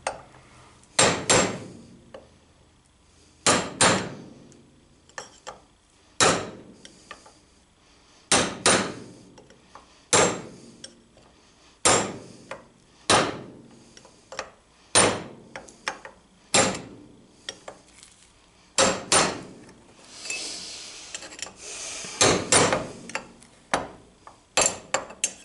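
A hammer strikes a punch to drive out a wheel bearing on a 1987 Starcraft Starmaster trailer. Over a dozen sharp metallic clangs come at irregular intervals, some in quick pairs, with near-silence between blows.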